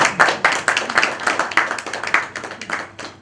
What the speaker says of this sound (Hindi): ताली तो होनी चाहिए